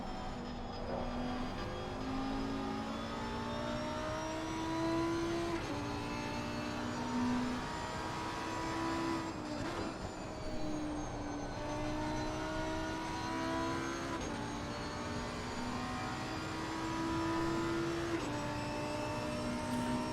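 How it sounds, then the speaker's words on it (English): Race car engines from Assetto Corsa Competizione at Zolder during an endurance race, a steady high-strung whine with layered harmonic drones that rise and fall continuously, loud and unbroken throughout. "I'm starting to fall asleep from the engine noise, man."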